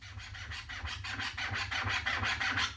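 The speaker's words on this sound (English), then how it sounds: "I find that the mids are the most successful for sort of like really almost wiping the scratch out." A DJ scratches a record on drum and bass gear with the mixer's mid EQ turned down. Repeated back-and-forth scratch strokes sound thinned and hissy, growing slightly louder in a quick steady rhythm.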